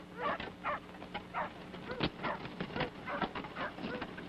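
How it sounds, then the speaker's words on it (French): Police dogs barking in quick, repeated bursts at moderate distance, the yaps and woofs overlapping in an uneven rhythm against a steady background. "On dirait des chiens de police."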